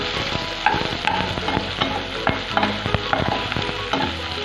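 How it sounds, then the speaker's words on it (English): Onion, ginger and garlic fry in oil, a loud continuous sizzle broken by regular stirring scrapes and clicks of a spoon against the pan. "Roast the onion, ginger, garlic until the onion turns light pink."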